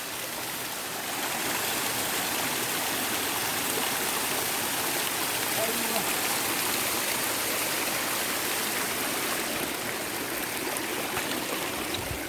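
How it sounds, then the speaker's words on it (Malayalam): Water rushes steadily in a stream near Poomala dam, a loud, continuous broadband roar that swells in within the first second and holds unbroken, with no voices. "അപ്പോൾ ഇവിടുന്നാണ് വെള്ളം അങ്ങോട്ട് ഒഴുകുന്നത്."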